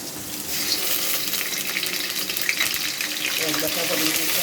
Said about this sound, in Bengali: প্যানটা গরম করে নিয়েছি। পরিমাণ মতো সরষের তেল দিয়ে দিলাম।